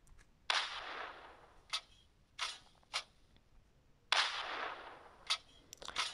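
Several sharp, booming cannon blasts from the video game Piggy fire at irregular intervals, each trailing into a short noisy decay, with quieter pops between.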